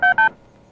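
Two short electronic tones from a telephone keypad beep in quick succession, clear and close, as a phone number is dialed in a movie scene, then a faint hush follows.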